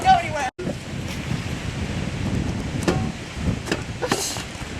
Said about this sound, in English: About 40-mile-an-hour winds, lighting exhaust tips on fire.